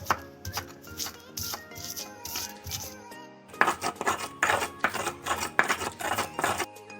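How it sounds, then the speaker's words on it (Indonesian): Spice paste is ground for nasi goreng in a stone ulekan mortar with its pestle, giving close, rhythmic knocking and grinding strokes that pause briefly midway, then come back quicker and louder. "Oke, lu ulek sampai halus ya."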